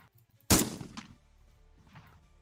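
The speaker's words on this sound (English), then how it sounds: "A single gunshot." One sharp, loud gunshot cracks out at close range, followed by a brief fading echo and quiet.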